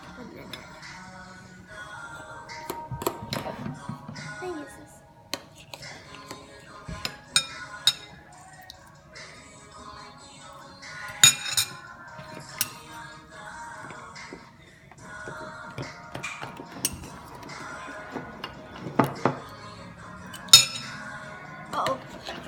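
Slime being mixed with activator in a bowl, producing irregular clinks and scrapes of a utensil against the dish, quiet with sharper taps scattered throughout.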